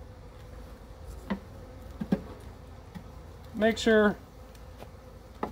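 Bees buzz around a hive as they are brushed off a frame, with a faint steady hum and a brief, close, louder buzz partway through; a voice speaks briefly.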